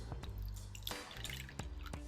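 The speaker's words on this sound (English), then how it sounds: "The reason I fill the water bowl up first" Water poured into a tarantula's small water bowl inside an enclosure, heard as short drips and splashes with brief pauses, close and fairly quiet, with no voices.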